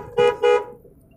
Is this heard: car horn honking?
yes